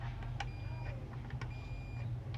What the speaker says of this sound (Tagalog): Pakinggan nyo na lang yung buzzer.